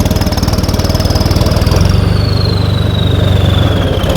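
Tractor engine running steadily and loud up close, a continuous rhythmic diesel chug with a faint high whine above it, no talk.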